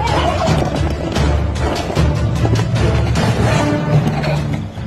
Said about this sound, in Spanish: Eso es una gallina defendiendo a sus polluelos de un águila.